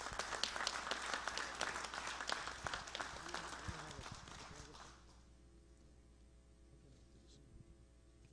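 Audience at a Masonic academy meeting applauding the brothers, a dense round of clapping that holds steady for about five seconds, then fades out, leaving a quiet room.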